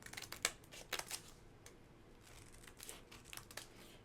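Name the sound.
cutting out a rub-on sheet and flowers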